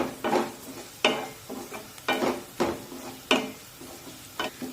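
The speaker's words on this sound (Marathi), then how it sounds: "आता यामध्ये चिमूडवर हिंग टाकूया फोडणी छान बसली पाहिजे" Asafoetida tossed into hot oil for a tempering while making jowar-flour ukadpendi, with crisp sizzling and repeated stirring scrapes in a steady rhythm, close and moderately loud, no talking.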